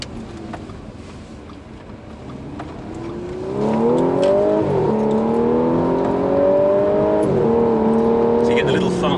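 An Audi S4 exhaust note while driving, a low rumble that rises into a steady revving drone as the car accelerates, heard from inside the car with a voice talking over it.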